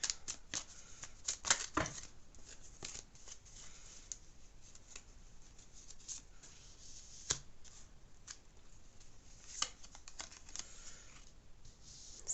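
Tarot cards are shuffled up close, a steady riffling and slapping with sharp flicks scattered through, quiet and alone with no talking.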